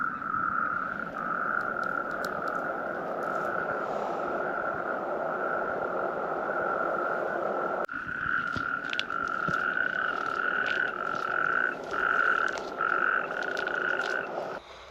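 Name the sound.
marsh frogs croaking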